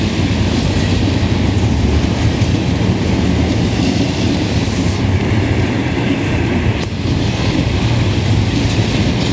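A CN freight train rolls past in a downpour, a loud continuous roar of wheels and cars with steady rail rumble and rain noise, close by and unbroken for the whole stretch.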